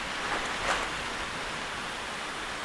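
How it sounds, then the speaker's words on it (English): Steady broadband whoosh of strong thunderstorm wind rushing past, with a brief louder gust surging near the start, no voices. "it just suddenly got very windy"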